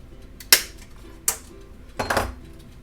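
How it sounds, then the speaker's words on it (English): A handheld hole punch cutting through a Shrinky Dink plastic letter for a keychain gives a few sharp, close clicks, spaced apart, in a quiet room. "I'm just going to use my hole punch."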